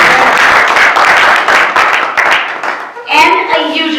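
Dense applause and clapping from an audience at an informative session on colon cancer, rising in honor of young doctors; a voice starts speaking over the tail end as the clapping carries on underneath.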